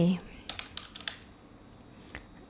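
Someone types an Excel formula on a computer keyboard: a quick run of light, close key clicks, then quieter pauses, following a brief bit of speech at the start.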